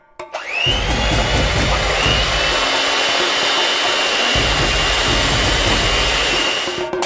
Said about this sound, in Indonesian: kita memutuskan untuk menggunakan mixer seperti ini, yang membuat semuanya menjadi lebih baik